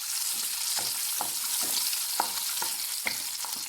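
Small onions sautéing in hot coconut oil, with a steady bright frying hiss throughout and regular sharp scrapes and taps of a spatula stirring the pan, close and clear with no talking.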